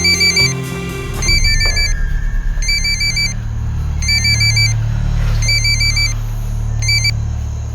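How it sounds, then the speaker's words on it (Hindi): A telephone ring repeats in regular bursts, about six rings over several seconds, loud and close, over a low engine-like rumble that swells in the background. "रिंग जा रही है सर"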